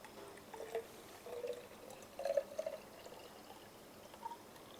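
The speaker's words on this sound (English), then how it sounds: "we need to pour in strongly concentrate alkali solution into the second flask" Concentrated alkali solution is poured into a second laboratory flask while glassware is washed, giving a faint, trickling liquid pour with small splashy bursts, close and quiet, with no talking.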